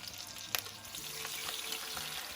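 Chicken adobo frying in a pan as its sauce is poured in and stirred: soft, steady sizzling with a brief louder splash near the start and faint scraping, quiet and close, with no talking.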